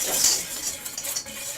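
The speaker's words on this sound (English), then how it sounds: "we're going to use a whisk to sift it the new-fashioned way" A whisk stirring flour and salt in a bowl in place of a sifter, making a soft rapid scratchy scraping with faint light clinks, close and fairly quiet, with no talk.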